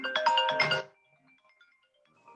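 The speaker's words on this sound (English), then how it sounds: "now my phone's going off here" A mobile phone ringtone going off during a council meeting, a bright melodic chime of rapid tones lasting under a second, then near silence with faint background sounds.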